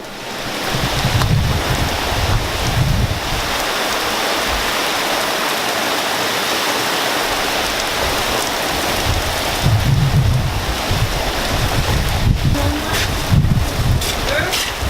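A storm in the south brings steady heavy rain hissing over everything, with low rolling thunder swelling at the start and again near the end.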